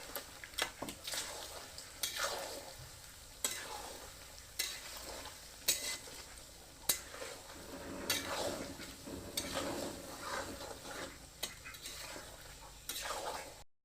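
Pork with turmeric powder stirred in a pan, spatula scrapes and knocks landing every second or so over a soft sizzle, fairly quiet and close, no talk.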